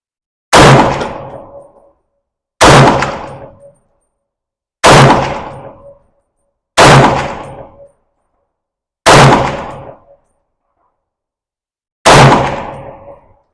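Ruger SFAR rifle firing Hornady match ammunition, six loud single gunshots spaced roughly two seconds apart, each with a sharp crack and a ringing decay, with no talk.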